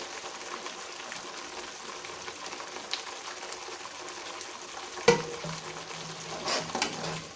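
Chicken sauce with sweet soy sauce is stirred in a pan, making a soft continuous sizzle with light scraping, a sharp utensil clack midway and a brief bubbly swell near the end; no speech.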